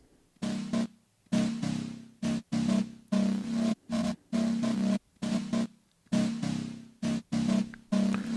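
Layered MicroKorg ambient synth plays alongside a reversed, offset copy, one panned left and the other right, in swelling chopped bursts separated by short silences, moderately loud with no voices.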